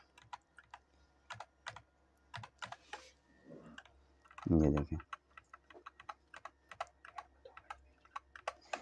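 Rapid clicky keystrokes on an HP Pavilion Gaming K500 RGB mechanical keyboard, close and crisp in irregular bursts, with someone briefly talking midway.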